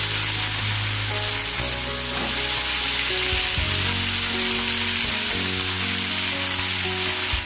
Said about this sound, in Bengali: এবার এর মধ্যে আমি দিয়ে দেব কেটে রাখা টমেটো।